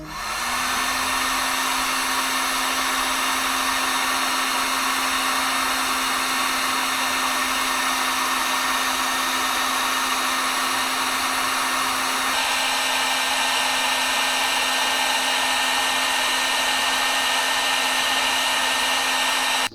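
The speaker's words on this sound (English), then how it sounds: "Heat gun." A heat gun blows steadily and loudly for about twenty seconds while wiring is tucked away during a radiator install on a 1978 G-body Malibu, a continuous airy whine with a slight shift partway through and no voices.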